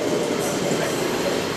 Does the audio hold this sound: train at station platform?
yes